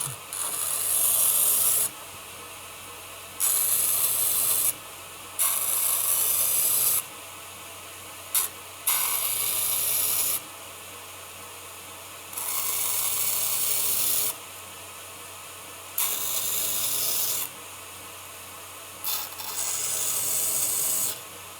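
Belt grinder working the serrations of a knife blade, heard as repeated bursts of harsh, hissing abrasive grinding a couple of seconds long each, separated by short quiet gaps, close and loud with no talking.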